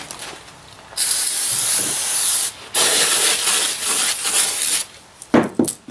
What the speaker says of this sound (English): I'm going to grab some brake cleaner here too